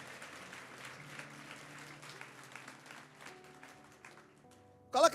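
A church congregation claps during a sermon, a faint, scattered round of applause mixed with murmuring voices and some tonal sound, ending in a short, louder burst.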